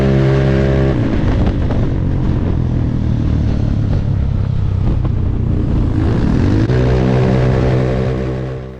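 Small Vespa scooter engines buzz loudly together as a compact pack of young riders races away from the start, a dense steady drone with shifting pitch and a brief lull before the revs climb again.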